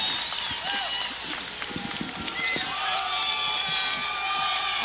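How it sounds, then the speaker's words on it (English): A home crowd of New Bremen Cardinals fans cheers and yells during a high school basketball game against Minster, a sustained roar with whoops and claps under a commentator's voice. "Cardinal crowd trying to get in this to get the folks on their feet"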